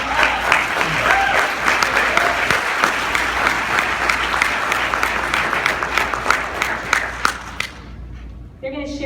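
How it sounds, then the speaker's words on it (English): Audience applause at a LegalShield business presentation, a sustained wash of many hands clapping for about nine seconds before tapering off, with voices mixed in. "Give them a round of applause."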